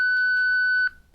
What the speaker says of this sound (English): Please name the person in front of you after the beep.